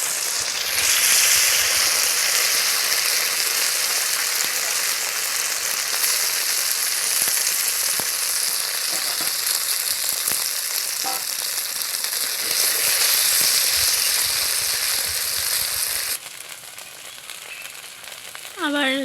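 Gorgoriya pitha, a popular North Bengal snack, frying in hot oil gives a steady, dense sizzle and crackle that runs loud and unbroken, then drops somewhat quieter near the end.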